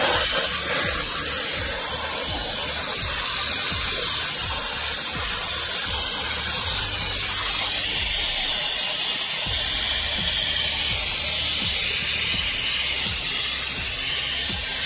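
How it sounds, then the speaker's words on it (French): SikaBoom-136 Maxi Volume expanding foam sprays steadily from the can under a stair step as insulation backing, giving a loud, continuous close-up hiss that runs the whole time with no pauses and no talk. "je mets de la mousse"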